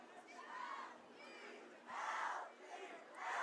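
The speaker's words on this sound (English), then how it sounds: "East Salmedo's crowd getting a little loud here." Spectators at a boys soccer game shout and cheer in rising waves, the bursts of crowd noise swelling and fading at moderate distance.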